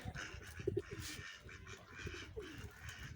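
A pigeon coos softly, low throaty warbling calls repeated a couple of times, faint and somewhat distant, in a pet house.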